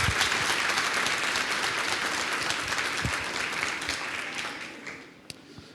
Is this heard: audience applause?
yes